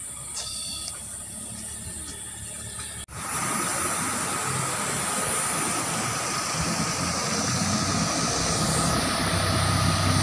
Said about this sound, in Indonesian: Ada motor juga lewat